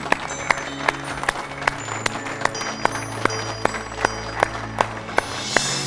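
Studio audience clapping in a roughly steady rhythm, with sharp, evenly spaced claps over a low hum and faint background tones, moderately close.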